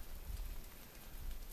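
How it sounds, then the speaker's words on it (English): Meltwater from snow dripping off big rhododendron leaves along a mountain trail, a dense steady patter like light rain falling close around, with no talking. "the rhododendrons hold those big leaves hold the snow, and then when it melts, it drips on you"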